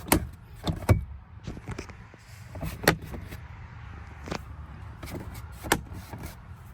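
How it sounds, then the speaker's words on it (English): A Chevrolet Silverado center console trim panel pressed into place on metal snaps, giving a few sharp plastic clicks and knocks spaced apart over a quiet cabin background. "the rest of the piece or panel can be just pushed in with the metal snaps"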